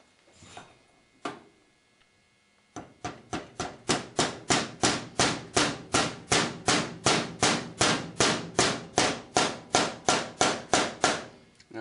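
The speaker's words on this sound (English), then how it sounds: "Notice I've got a brass hammer here." A brass hammer taps rapidly and evenly on a part during assembly of an F.I.E. Model E15 .22 LR revolver, with two isolated knocks first, then a long run of close, loud, regular strikes.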